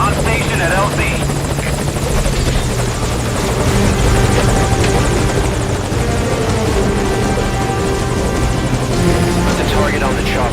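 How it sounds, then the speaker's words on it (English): A helicopter hovers at a landing zone in the video game Metal Gear Solid V: The Phantom Pain, its loud, steady rotor beat and engine whine continuous throughout, with voices talking over it. "Put the target on the chopper."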